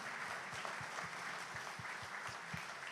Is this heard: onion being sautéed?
no